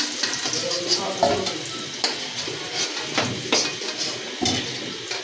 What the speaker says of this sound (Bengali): আমার আলুটা ভাজা হয়ে গেছে এখন আমি আলুটা নামাই নিই